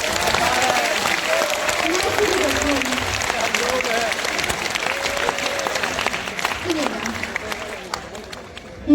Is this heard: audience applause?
yes